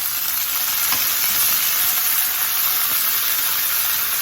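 Chicken browns in a frying pan with a loud, dense, continuous sizzle and hiss, close up and uninterrupted, with no speech.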